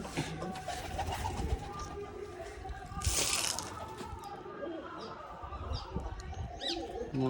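Soft pigeon cooing repeats amid a busy outdoor background, with a brief bright rustle or flutter partway through.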